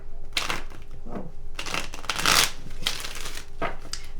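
Tarot cards shuffled by hand in repeated crisp riffling bursts, close and moderately quiet, with steady papery flicks and short pauses between passes.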